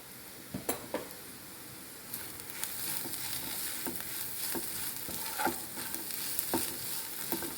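Squid curry masala with Kashmiri chilli and garam masala sautés in a pan, a steady close sizzle broken by repeated scraping and stirring knocks of a spoon.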